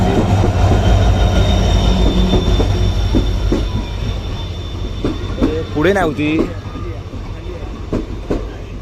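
A Konkan Railway Tutari Express train pulls into a crowded station with a loud, steady rumble of rolling wagons, then a sharp rising wheel squeal near the middle. People talk over it throughout.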